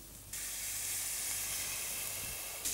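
Water poured into a hot pan of steak mushroom sauce, bursting into a loud, steady hissing sizzle that holds for a couple of seconds.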